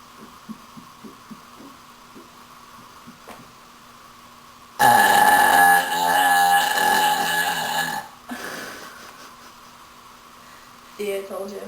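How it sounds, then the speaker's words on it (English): A person on a couch lets out one long, loud burp lasting several seconds, preceded by quiet background and followed briefly by a faint voice and another short sound. "What, you don't think you can burp louder?"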